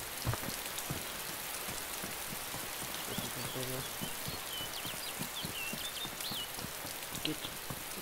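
Steady rain falls in the DayZ video game, a dense continuous patter on surfaces with scattered sharper drops. Voices talk faintly over it in places.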